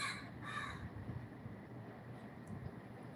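Harsh crow caws at the start, two or three loud calls in quick succession, then steady outdoor rumble and wind.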